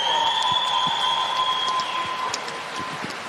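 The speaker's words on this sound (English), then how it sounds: "Let's give another round of applause, Milana Tepa." Spectators applauding a swimmer at the national swimming championships in New Zealand, a sustained, rain-like clatter of many hands echoing through an indoor aquatic venue and tapering slightly toward the end.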